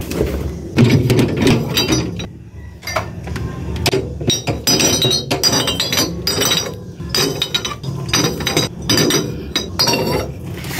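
Glass soft drink bottles and Red Horse beer bottles clink and knock together while being loaded into a refrigerator, with repeated close, bright rattles and chinks over about ten seconds.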